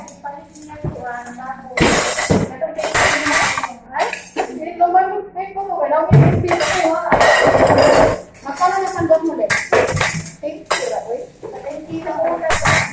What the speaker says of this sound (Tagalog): Pagkatapos kumain, maghugas.